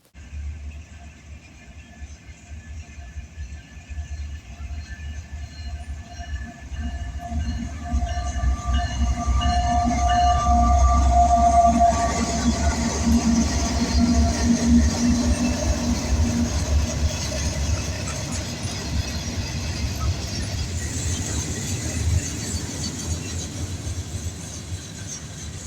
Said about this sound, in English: The first being B09 eastbound with a very fresh AC-44 C6M in the lead.